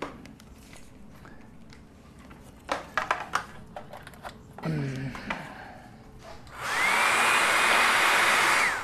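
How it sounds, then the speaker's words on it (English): A few scattered taps and knocks, then a hair dryer switches on with a steady, loud airy whir that keeps blowing to the end. "we're gonna use a hair dryer to dry this a little bit"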